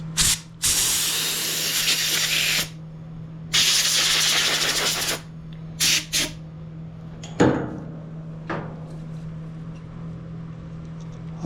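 Carburetor cleaner sprays into the carburetor of a Wen Power Pro 5500 watt generator that sat four years with fuel in it, in several sharp bursts of loud, close hissing broken by pauses, with a steady hum beneath.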